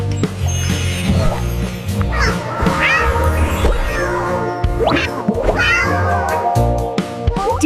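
A cat meows loudly and up close, several drawn-out, wavering cries that rise and fall, one edging toward a yowl, with no talking.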